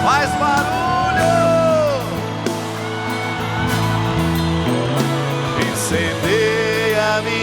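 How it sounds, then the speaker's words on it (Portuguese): A congregation at an outdoor Catholic Mass led by a priest shouts and cheers loudly in a sustained roar, mixed with music and amplified voices. "Grita na liberdade do Senhor. Faz barulho."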